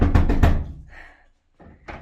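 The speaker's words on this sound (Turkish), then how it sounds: "Sakın o kapıyı sakın açayım deme Süheyla" Several heavy knocks on a door in a horror video game, three quick thumping raps up close followed by a fainter knock after a short pause.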